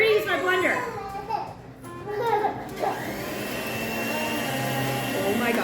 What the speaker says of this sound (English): And we're gonna use my blender.